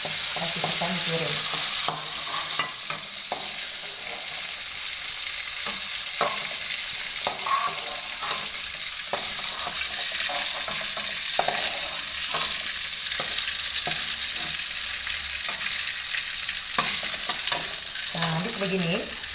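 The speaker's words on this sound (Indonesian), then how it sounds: "Kita goreng terasinya sebentar." Shrimp paste (terasi) frying in a pan, a steady bright sizzle with intermittent stirring scrapes and clicks, close and continuous, with no talking.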